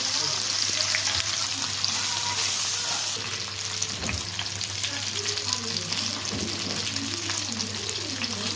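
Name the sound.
fish frying in hot oil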